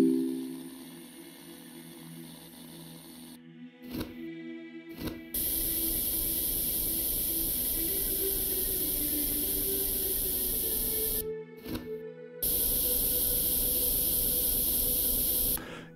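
A steady spray hiss in Tank Mechanic Simulator, switching on and off in long loud bursts separated by short gaps, with quieter mechanical tones beforehand.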